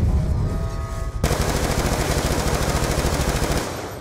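Call of Duty Black Ops 2 gameplay carries rapid, loud automatic gunfire, a sustained burst of machine-gun shots after a short muffled opening, firing continuously for several seconds before tapering.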